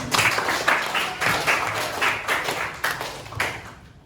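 Junior high students applaud in a classroom, a few seconds of steady group clapping with rhythmic pulses, close and fairly loud, tapering off at the end.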